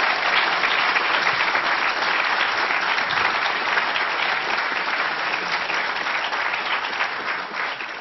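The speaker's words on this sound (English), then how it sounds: "let's give Sven a round of applause for some tremendous moderating tonight" An audience at a mobile health panel event breaks into sustained, dense applause, a loud continuous roar of clapping that holds steady for several seconds before easing slightly at the end.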